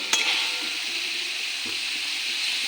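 Cauliflower, peas and potatoes sizzle steadily in a hot pan while a utensil stirs and scrapes, with a couple of faint clinks against the metal.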